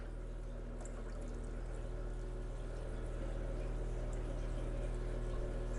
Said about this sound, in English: I'll go ahead and squirt it out there, and we will get it in the aquarium.